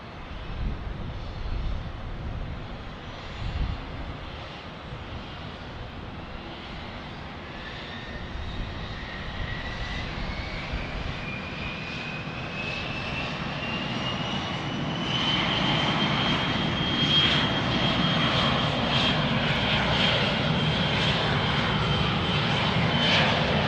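An airplane taking off from runway 31 right at Dallas Love Field during thunderstorms and rain, its engine roar building from a distant rumble to a loud, sustained drone with a rising whine, no voices.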